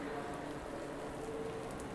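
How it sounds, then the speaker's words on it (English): Rain falls at a racetrack, a faint, steady wash of drops hissing evenly throughout with no distinct individual impacts. "It's currently raining"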